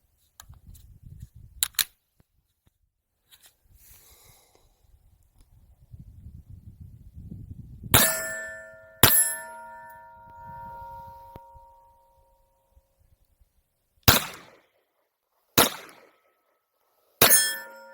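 A Kel-Tec PMR-30 pistol chambered in .22 Magnum fires five sharp, ringing reports: two close together, a pause, then three more spaced shots. Quieter handling noises come before the shots.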